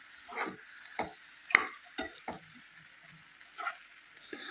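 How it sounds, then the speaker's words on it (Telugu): Spoon scrapes and clacks as stuffed brinjal in a spicy onion-chili masala with fresh coriander gets stirred in a pan, in irregular close strokes over a faint low sizzle, with no talking. "కొత్తిమీర ఫ్లేవర్ అంతా కూడా వంకాయకి పట్టేటట్లు బాగా కలుపుకుందాం."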